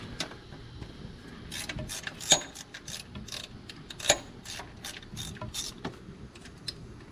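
Wrench work on the water pump bolts of a 2003 Dodge Ram, with irregular ratcheting clicks and metallic ticks heard up close, including two sharper clanks, over a low steady background hum.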